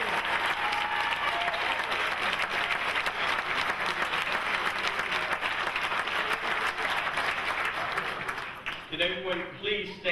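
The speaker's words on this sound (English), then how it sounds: "please give our outstanding graduates another rousing round of applause" A large audience at a Navy MLT graduation ceremony applauds the graduates in steady, dense, loud applause lasting about eight seconds before it thins out and voices and scattered claps take over.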